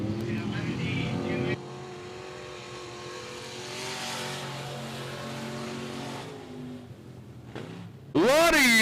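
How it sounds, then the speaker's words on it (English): Limited modified race cars in a speedway heat race, engines droning steadily with some revving and a harsh rising whine at the end, under an announcer's running commentary. "Jeffrey Jackson picking up your first limited modified heat race."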